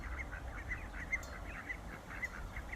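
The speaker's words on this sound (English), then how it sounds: "Just come out to the garden and the ducks have followed me out." Ducks on a small farm in a garden give a run of soft, repeated quacks and honks at a steady pace, fairly close but quiet over a low background rumble.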